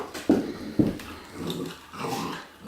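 A Redbone Coonhound puppy growls during a game of tug, giving two sharp growling bursts followed by longer rumbling, whining growls, close and clear with no talking.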